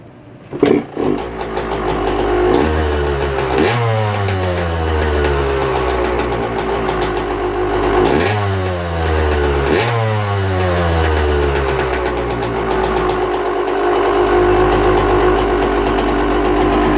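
A two-stroke motorcycle engine cranks and fires up, then runs with several sharp revs rising and falling, loud and close.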